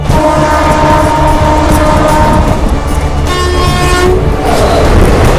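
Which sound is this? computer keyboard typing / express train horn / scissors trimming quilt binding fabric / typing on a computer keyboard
express train horn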